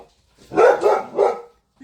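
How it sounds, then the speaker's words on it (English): Dog barking at a milkman: three quick, loud, close barks in a short burst, then quiet. "This dog does not like this oil man for some reason."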